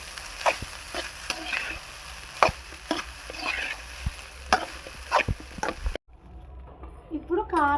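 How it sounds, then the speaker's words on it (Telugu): Cooked rice for egg fried rice is stirred in a hot pan, with repeated sharp spatula knocks and scrapes over a soft sizzle, followed by a quieter stretch. "అన్నం వేసుకున్నాం కదండి, ఇప్పుడు ఇది బాగా కలుపుకున్నాం."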